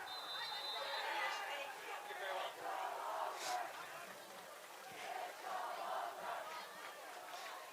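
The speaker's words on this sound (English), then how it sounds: "And the Mountaineer crowd begins the chant of "It's all over."" Football crowd in the stands at a high school game, a Mountaineer home crowd chanting "It's all over" late in the contest, a steady mass of voices swelling and falling in rhythmic waves at moderate distance.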